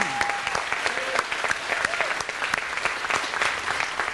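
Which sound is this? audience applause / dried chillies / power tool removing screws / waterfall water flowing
audience applause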